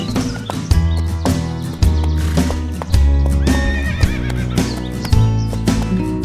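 While out horseback riding, a horse neighs loudly and repeatedly, with rhythmic clip-clop of hooves and several strong whinnies close by.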